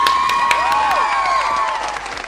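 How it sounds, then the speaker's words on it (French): An audience applauds and cheers to welcome a guest joining a tabletop role-playing game show. The clapping is steady and close, with whistle-like tones sweeping over it for a couple of seconds. "Alors, on l'applaudit."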